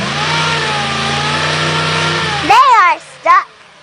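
A stuck Jeep CJ5 with a V8 engine runs at a steady, droning rev in the mud, then cuts off abruptly as voices take over.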